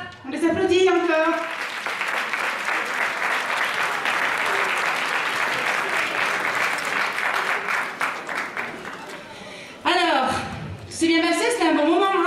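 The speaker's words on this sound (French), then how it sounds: "On les applaudit encore" Sustained applause fills a beauty pageant hall at the Miss Ronde Poitou-Charentes election, with a presenter's voice and music heard at the beginning and again near the end as the clapping winds down.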